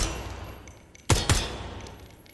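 Two sharp rifle shots from the tactical shooter game Ground Branch, fired in quick succession about a fifth of a second apart, loud and close over a quiet low rumble of background ambience.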